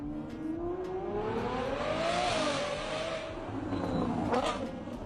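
A Lamborghini SVJ's V12 engine revs up in a rising, smooth howl that climbs, eases off, and climbs again, loud and near with a slight roar underneath.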